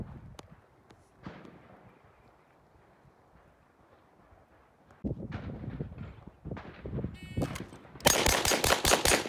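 A Beretta 92FS pistol fired in a bill drill, a rapid string of sharp, loud shots packed closely together near the end after quieter scattered noises.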